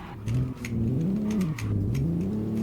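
Alfa Romeo Giulia engine droning and rising and falling in pitch as it corners on a track with traction control off and drift tires fitted, a steady close engine note with shifting revs throughout.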